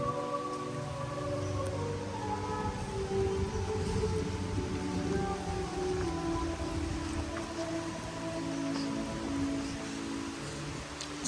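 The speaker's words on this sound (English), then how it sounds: "a light drizzle of rain, and all these cool like pathway bridge. And it's kind of raining" Light drizzle falls outdoors along a pathway and bridge near a church in Rizal, Philippines, a soft, steady hiss of rain holding at an even, fairly faint level throughout.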